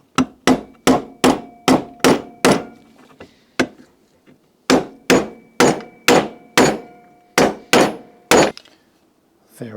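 Repeated hammer strikes drive a homemade bushing into a diesel two-stroke variable compression engine during a rebuild, two close, loud bursts of about seven evenly spaced metallic blows separated by a short pause.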